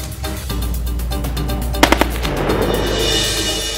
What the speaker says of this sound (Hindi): पोस्ट पर अचानक दुश्मन की गोलीबारी।